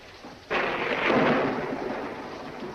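A loud, sudden crack of thunder that swells into a long rolling rumble, fading slowly with steady rain noise behind it; no voices.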